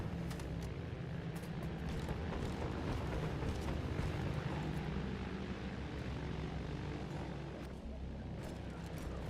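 Planes roar continuously and loudly in the World War I shooter Battlefield 1, a dense droning engine wash with scattered bangs and faint voices buried in the din.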